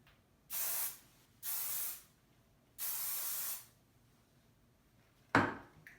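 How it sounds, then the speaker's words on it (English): Hairspray is sprayed onto hair being styled into a French twist: three close, steady hissing bursts of under a second each with short pauses between, then a sharp knock, likely the can being set down. "Hairspray is always a good tool to get some of those wispies in there."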